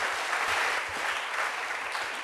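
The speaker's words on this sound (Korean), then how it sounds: "박수로 할렐루야." A church congregation breaks into applause during a sermon, a dense, steady wash of many hands clapping at moderate distance, continuing evenly without speech.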